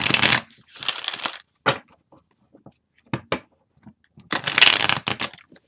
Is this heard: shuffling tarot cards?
yes